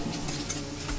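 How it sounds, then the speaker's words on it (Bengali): Spice paste with a little salt stirred in a pan for Bengali pabda fish curry, a soft continuous scraping and faint sizzle close by, steady with no talk. "যতক্ষণ না মশলা থেকে তেল ছাড়ছে ততক্ষণ নাড়াচাড়া করতে থাকবো।"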